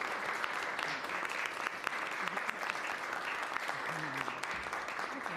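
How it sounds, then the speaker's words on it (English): A meeting audience applauds a panel at a committee hearing on foster care, a steady spread of many hands clapping at moderate distance, fairly quiet and even throughout, with faint voices mixed in. "May we have a round of applause for our panel."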